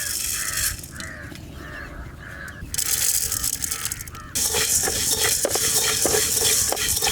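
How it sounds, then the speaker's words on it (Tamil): Coriander seeds roast and get stirred in a pan over a village kitchen fire, giving steady scraping and rustling with sharp metallic clinks. Crows caw nearby, and the sound grows louder partway through. "தனியா வறுத்து எடுத்துக்கலாம்."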